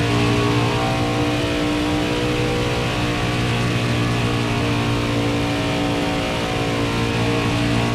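A NASCAR Heat 5 race car at Indianapolis holds a loud, steady engine drone at high speed, a constant buzzing roar with little change in pitch through the whole stretch.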